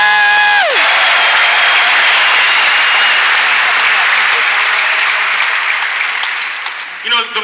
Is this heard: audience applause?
yes